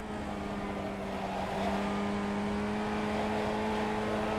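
A race car's engine drones steadily from inside the cockpit as it laps a circuit on tyres that slide, the tone holding and swelling slightly midway, with no one talking.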